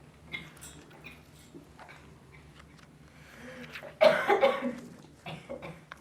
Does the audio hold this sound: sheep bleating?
no